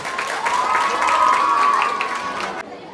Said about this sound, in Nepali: सबैजना ताली बजाइदिनु होला।